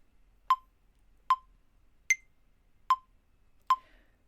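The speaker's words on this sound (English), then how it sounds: "I went ahead and moved my metronome up to 75 again." A metronome set to 75 in 6/8 time gives five sharp, evenly spaced clicks, with one higher-pitched accented click among them, crisp and clear against near silence.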